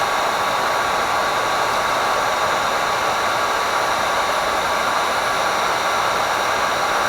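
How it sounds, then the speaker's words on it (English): Heat gun warming up for embossing craft work, a loud, steady, continuous blowing roar with no change in level, close by and without talk. "you want to make sure that you let your heat tool heat up before you put your embossing powder over it"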